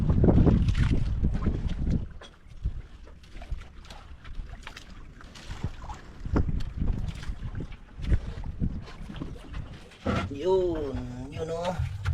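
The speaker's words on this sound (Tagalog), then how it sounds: "Lakas pa rin ang hangin." Strong wind roars and buffets the microphone, gusting loud then easing, with voices talking over it and a brief sung or called tone near the end.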